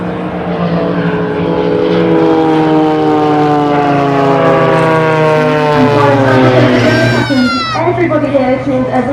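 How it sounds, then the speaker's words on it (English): Blades aerobatic team propeller aircraft flying in formation toward the crowd at the Southport Air Show, a loud sustained engine drone with rising and falling pitch as the planes approach and pass, with a commentator talking over it. "And now they're going to head directly towards us in standard formation"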